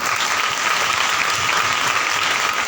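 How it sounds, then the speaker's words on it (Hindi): A church congregation at a Sunday prayer service claps loudly and steadily, a dense continuous wash of many hands filling the room without pause. "ये ताली बजाइए।"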